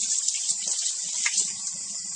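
A juicer part rinsed under a running tap: a steady, hissing stream of water with faint irregular clatter as the piece is handled, fairly quiet and without voices.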